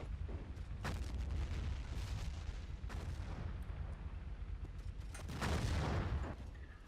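Booming explosions and scattered gunfire in a Battlefield 1942 battle, several heavy blasts spaced across the stretch with the loudest near the end, set against a constant rumbling wartime din and no talk.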